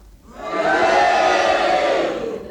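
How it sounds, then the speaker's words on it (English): Studio audience on a radio panel game show cheering and booing together to vote on a challenge, a loud collective roar swelling quickly, holding steady, then fading over a couple of seconds. "will you cheer, and if you disagree, will you boo, and you all do it together now?"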